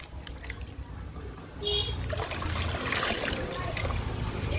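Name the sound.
pouring liquid onto indoor plants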